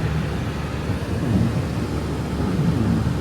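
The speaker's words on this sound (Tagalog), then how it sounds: "Ulan na ulan siya, oh." Steady, dense roar of heavy rain in Texas during rainy season, with a low rumble underneath, continuous and loud throughout, no voices.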